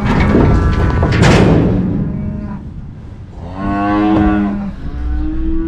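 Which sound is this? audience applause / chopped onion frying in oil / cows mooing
cows mooing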